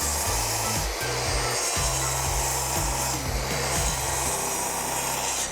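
Table saw cutting wood, a loud steady motor roar with harsh blade noise under repeated low thumps, close up and continuous throughout.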